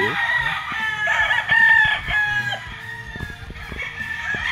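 Gamefowl roosters at Firebird Game Farm crow loudly nearby, one long crow carrying over other birds' clucks and background farm noise.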